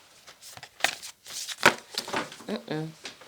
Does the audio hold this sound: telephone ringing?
no